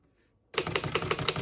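Keys clack on a 1928 Underwood Four Bank portable typewriter, a quick steady run of about eight sharp close strikes starting suddenly after a short quiet moment.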